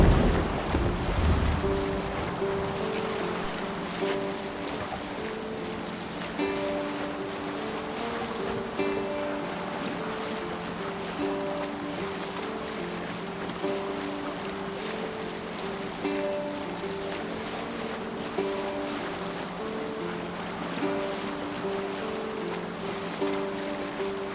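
A Viking longship under sail at sea in Assassin's Creed Valhalla, with steady wind and rushing water, a constant wash of waves along the hull and faint tonal sounds throughout.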